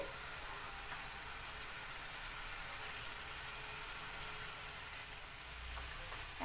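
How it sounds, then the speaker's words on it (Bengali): Fish pieces laid into hot spiced oil crackle and sizzle as a steady, even hiss that holds throughout, fairly faint and without any talking. "এবার আমি এর মধ্যে মাছের টুকরোগুলো পরপর সাজিয়ে এতে আমি দিয়ে দিচ্ছি।"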